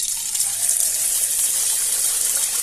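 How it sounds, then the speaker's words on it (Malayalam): Batter being poured into hot coconut oil for Kannur muttasirkka, a steady, close hiss and sizzle that holds constant and unbroken the whole time. "എണ്ണ ചൂടായിട്ടുണ്ട്. മാവ് ഒഴിച്ചു കൊടുക്കാം."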